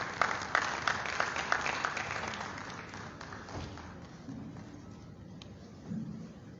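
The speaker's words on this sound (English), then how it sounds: "Another round of applause for the performance" An audience applauds at a formal launch event in Sierra Leone, with a burst of clapping up front that thins and fades to a faint murmur, then a small flicker of claps near the end.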